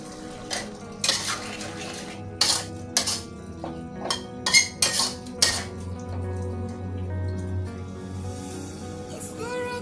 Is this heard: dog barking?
no